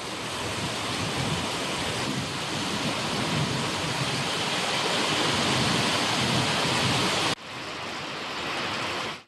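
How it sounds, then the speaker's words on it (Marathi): Heavy rain pours down in a thunderstorm with strong wind around Dapoli in Ratnagiri, a dense, roaring broadband wash that stays loud and steady with low rumbling, then drops briefly before continuing more faintly. "वादळी वाऱ्यासह पावसानं या ठिकाणी जोरदार हजेरी लावली"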